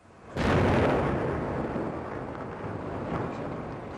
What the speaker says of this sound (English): That was an IRA bomb.